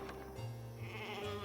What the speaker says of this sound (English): Alright, we have sheep.